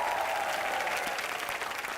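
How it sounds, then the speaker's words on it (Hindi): Studio audience applause on a Hindi comedy show, a dense steady wash of clapping held at an even level for the whole stretch with no voices over it. "जोरदार तालियां हो जाए इनके लिए।"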